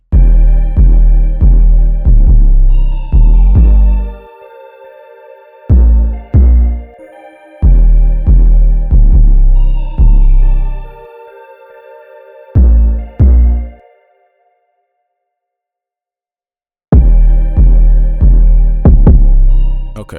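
A beat built on two alternating 808 bass sounds, with loud, booming low-end hits in a steady bouncing pattern and brief silent gaps between sections, no voices.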